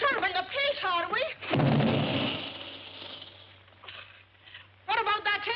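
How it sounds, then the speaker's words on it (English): Deep booming blast of an air gun in a 1941 film, a loud rumbling report that decays slowly between stretches of dialogue. "What about that air gun of yours booming all day and night?"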